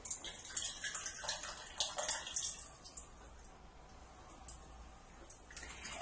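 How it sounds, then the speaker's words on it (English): Filtered water pours and splashes into a shake cup, a bright trickling stream for a few seconds that tapers to quieter drips. "I take my shake cup, I fill it with filtered water, just a little bit."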